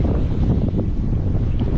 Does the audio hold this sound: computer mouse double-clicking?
no